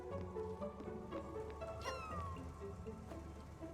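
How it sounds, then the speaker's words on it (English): A cat meows in the mines in the game Spiritfarer, giving a short sliding mew over a steady layer of tonal background music, with a few faint clicks and no talking. "Why are you meowing?"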